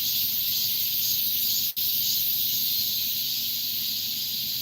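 A continuous high, buzzing drone of cicadas at Heungcheonsa temple fills the air, steady and unbroken, with a single brief click partway through.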